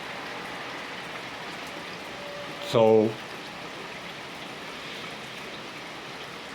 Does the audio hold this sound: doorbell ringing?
no